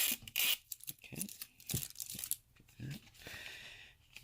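Tape seal torn from a plastic ball holding a giant Ferrero Rocher, producing a series of close, sharp ripping and crinkling bursts with brief pauses between them and no speech.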